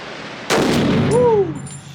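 A single loud gunshot at an indoor shooting range cracks sharply and rings briefly, followed by a short whooping voice.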